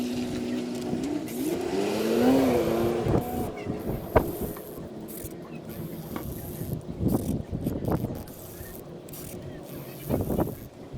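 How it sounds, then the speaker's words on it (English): Fresh brake fluid being pumped through the rear brakes of a 2009 Toyota Camry with a Phoenix brake flusher, giving steady mechanical clicking and squeaking strokes over a continuous background hum. "Now I'm going to be pumping fresh fluid."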